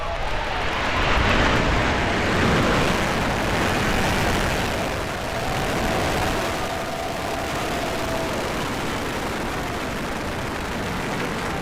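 A SpaceX rocket lifts off on a launch to the International Space Station with a broad, continuous roar that fills the air. It stays loud and steady, with faint voices underneath.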